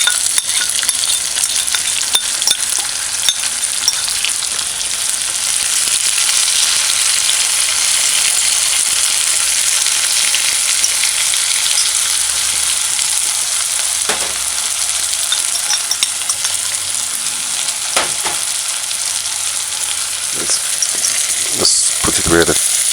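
Onions and scallion sizzle steadily in a hot pan, a dense continuous frying hiss with a few sharp clinks and stirring knocks near the end.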